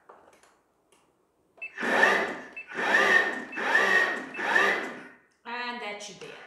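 Food processor pulsing cheesecake base crumbs mixed with butter, four loud whirring bursts about a second each, close by, followed by a short different mechanical whine.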